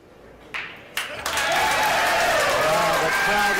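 Crowd at the Predator WPA Men's World 10-Ball Championship 2023 bursts into applause after a few sharp claps, swelling to loud sustained clapping and cheering with voices mixed in.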